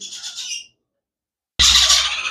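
Sun conure parrots and a sun conure chick give shrill, harsh screeching calls up close, a short burst, then a pause of silence before another loud squawk.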